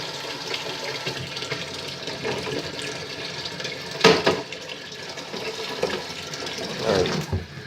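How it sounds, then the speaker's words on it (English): Hot water splashes and pours into a homemade stew for sled dogs, a continuous rushing, gurgling flow with louder surges partway through and near the end, heard up close. "Just getting some hot water here to throw into the soup to complete up the mix."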